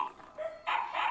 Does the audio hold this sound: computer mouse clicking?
no